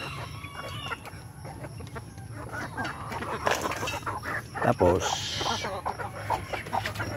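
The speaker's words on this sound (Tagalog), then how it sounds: "dito na naman ako sa mga alaga kong manok" Chickens cluck and squawk close by, with a rooster crowing and someone speaking briefly over the flock's busy chatter.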